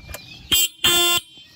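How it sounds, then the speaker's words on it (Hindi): A Yamaha Aerox S 155 scooter's horn gives two loud honks, a short beep followed by a longer one, close up and on their own. "अगर इसके हॉर्न की बात करें तो हॉर्न का साउंड भी आप एक बार"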